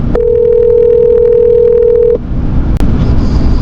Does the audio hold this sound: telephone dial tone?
yes